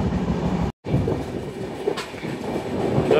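A moving passenger train on the Pune to Ujjain route gives a steady rumble from inside the carriage, with faint clatter of wheels on track and a brief dropout near the start.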